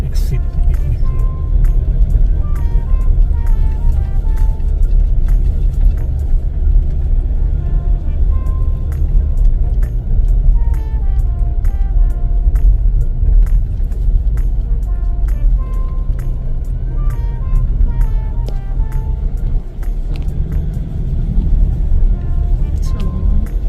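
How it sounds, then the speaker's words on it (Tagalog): A car rolls slowly along the road to Taal Volcano in steady low engine and road rumble, with faint clicks and beeps above it, lasting throughout. "We're only driving 22 to 24 kilometers per hour."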